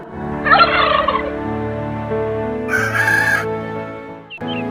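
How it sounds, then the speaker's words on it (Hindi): A village rooster crows in a long, loud call with a second strained crow following, clear and close, with no talk over it. "वह रोज सुबह बांग देकर गांव वालों को जगाया करता था।"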